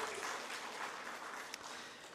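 Audience clapping at the launch of a regency city-branding logo and tagline in Penajam Paser Utara, a dense, steady wash of applause from a crowd at moderate distance, no speech over it.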